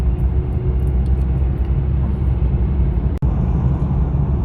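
A car in slow-moving evening traffic on the M25 motorway gives off a steady low road rumble and engine drone from inside the cabin, loud and continuous, with one brief dropout near the end.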